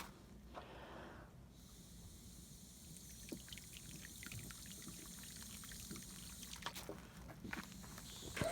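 Water drains and trickles steadily out of a camper's water hose outdoors, a continuous pouring flow with small splashes and gurgles and a few louder spurts near the end.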